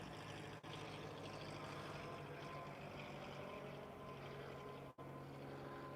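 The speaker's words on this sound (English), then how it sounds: "Here comes another plane." An airplane cruises slowly overhead, giving a steady, continuous broadband engine drone at an even level throughout, with no talking.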